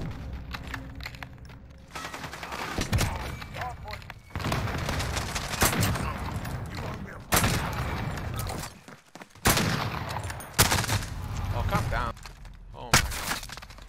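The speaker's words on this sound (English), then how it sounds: "How am I getting shot at?" Gunfire in a Modern Warfare Hardpoint match: repeated bursts of automatic fire and single shots in irregular clusters, loud and close, broken by brief gaps, with a player talking over it.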